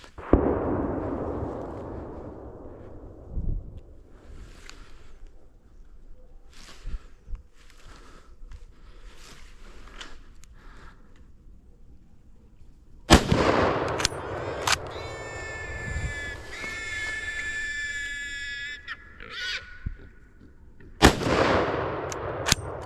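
Rifle shots ring out during a wild boar hunt, a sharp close report followed later by a second loud shot, with quiet outdoor ambience between and no speech.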